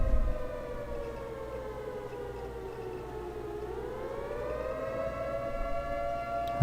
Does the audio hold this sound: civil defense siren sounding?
yes